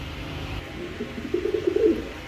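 A pair of Aushan grizzle pigeons coos softly and close by, one short low burbling call rising near the end over faint background hiss.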